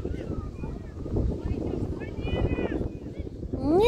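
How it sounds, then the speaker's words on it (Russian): Wind buffets the microphone at an outdoor under-12 youth football championship match, a continuous low rumbling roar that swells and fades, with distant shouting voices and a whistle-like tone near the end. "Тут и ветер мешает"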